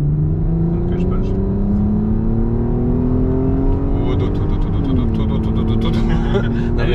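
An Audi TT with 250 horsepower, in sport mode with paddle shifters, accelerates hard from inside the cabin, its engine droning loud and steady with rising pitch and a gear change, while people talk over it.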